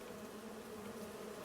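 A steady, continuous drone of bees buzzing in the farming game Farming Simulator 25, moderately loud and unbroken, with no talking over it.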